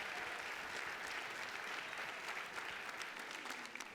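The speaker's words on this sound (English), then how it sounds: "Now just a big round of applause for the queens and all the Royal Court members together." An audience at the Rose Queen coronation applauds the queens and Royal Court, a steady, dense wash of clapping that holds evenly throughout.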